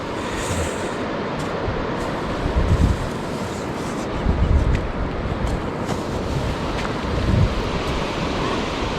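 Sea waves wash and surge nearby under steady wind noise on the microphone, with a few louder swells rolling in, at night.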